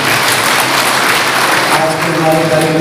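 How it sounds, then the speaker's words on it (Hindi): An audience claps to welcome guests onto the stage at a Kshatriya Dharma Sansad gathering in Varanasi, dense sustained applause filling the space from start to finish. "ताली बजा कर उनका स्वागत करें ताकि हमारा मार्गदर्शन करते रहे।"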